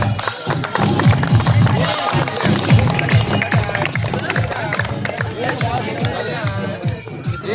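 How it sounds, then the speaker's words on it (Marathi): Audience applause at a cricket tournament felicitation ceremony on the ground, with sustained clapping and cheering from a crowd mixed with background chatter throughout. "टाळ्या वाजवा."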